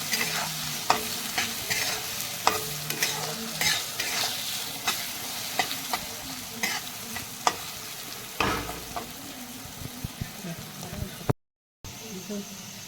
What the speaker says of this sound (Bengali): হলুদ দিয়েছি এবার আমি ভালো করে একটু চতুর্থ করে ভেজে নেব